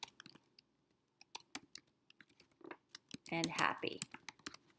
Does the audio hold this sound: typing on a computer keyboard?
yes